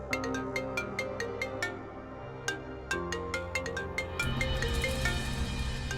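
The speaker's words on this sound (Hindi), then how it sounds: "गेंदा क्यों फोन कर रही है?" A melodic electronic phone ringtone plays a repeating chiming pattern, steady and moderately loud, with a deeper backing tone swelling toward the end.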